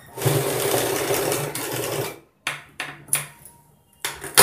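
A sewing machine stitches a collar onto a long frock made from a saree, running in one long loud burst and then several short start-stop bursts, close up and alone.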